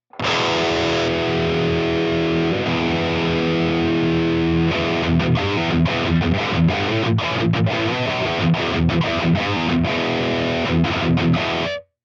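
Distorted electric guitar through a Marshall amp emulation with a crunchy tone: sustained chords at first, then choppy rhythmic strums, loud and alone with no talking.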